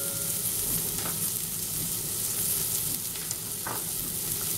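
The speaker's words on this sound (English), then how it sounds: "I'm just giving them a stir around slightly just to soften up" Vegetables soften in a saucepan for tomato soup, giving a steady sizzle with faint scraping stir sounds underneath, continuous and close.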